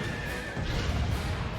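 Horses neigh and whinny in the PlayStation 2 action game Drakengard, a drawn-out cry over a rumbling battle din with a faint thud of hooves, the horse calls loud and close.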